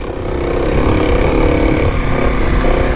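A 2021 Kawasaki KLX300 dirt bike engine at full throttle climbs a hill in second gear, a loud, close, sustained buzzing roar with a rough, pulsing texture and no talk.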